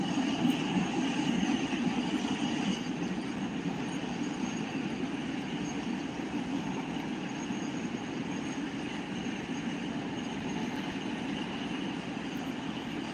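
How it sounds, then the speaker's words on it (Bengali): Goods train pulling into Ahiron Halt on a single-line railway section, heard as a steady, moderately distant rolling rumble of wagons that continues evenly throughout with no talk. "ওই ট্রেনটা মালগাড়ি নাকি এক্সপ্রেস ট্রেন এটা মালগাড়ি মালগাড়ি রয়েছে"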